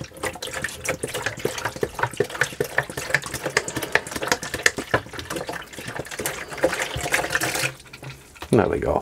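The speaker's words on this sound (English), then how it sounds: "Now we're going to add some water." Fresh water poured into the filter housing of a caravan Flojet water pump, a steady splashing, trickling flow close by that runs most of the time and then briefly eases, with talk over it.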